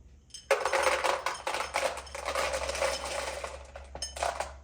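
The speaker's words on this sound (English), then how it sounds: "I'm just going to dump all this extra out into the bowl" Loose potting soil dumped from a pot into a bowl, a continuous gritty rustling and scraping with a few sharper knocks, close and fairly loud, under a steady low hum.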